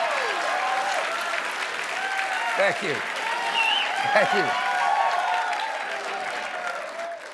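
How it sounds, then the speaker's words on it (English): A late-night talk show studio audience applauds, a steady, full roar of clapping and cheering throughout while the host speaks briefly over it. "That got bigger applause than I thought."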